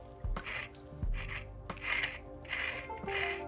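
Five short scraping rattles of a swatch stick inside a small glass nail polish bottle, evenly spaced, close and fairly loud with no voices.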